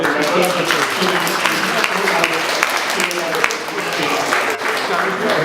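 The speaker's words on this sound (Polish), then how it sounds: "Proszę o brawa." Audience at a chess tournament awards ceremony applauding, a dense, even patter of many hands sustained for several seconds at moderate distance, with a voice over a loudspeaker audible through it.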